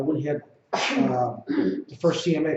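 A single sharp sneeze breaks into a person's talk about handling multiple offers on a home listing, with speech resuming right after it.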